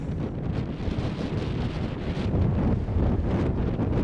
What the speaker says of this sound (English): it's very windy and wet up here